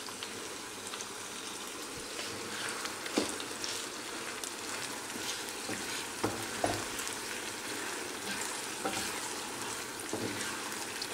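Steady, soft sizzling and crackling of minced meat frying in a pan over high heat, with occasional stirring scrapes, continuous and fairly quiet throughout.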